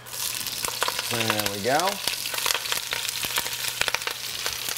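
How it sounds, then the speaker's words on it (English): Dino kale drops into a hot pan and sizzles steadily with crackling pops, while a brief tonal sweep and a few quiet spoken words pass over the frying. "These are gonna sizzle nicely down right when they hit the pan."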